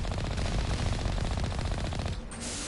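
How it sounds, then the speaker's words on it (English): Turrets on a station in the Mass Effect video game fire their guns in a rapid, continuous machine-gun stream that stays loud and close before cutting off abruptly near the end. "Already firing at me. They got 3 turrets apiece."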